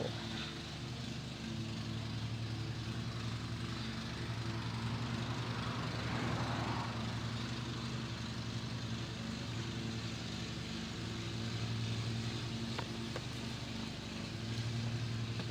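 Kaylor China electric motor spinning on a 48V controller at low throttle, a steady faint hum and whine with a constant drone throughout, no talk.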